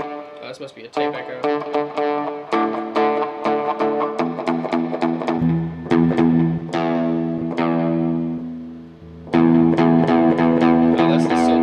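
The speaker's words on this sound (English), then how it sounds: "Oh, this must be a tape echo." Electric guitar played through a tape echo setting on a Getaria multi-effects pedal with IR cab simulation: picked notes and chords ring out with repeating echo trails, close and fairly loud, with pauses between phrases.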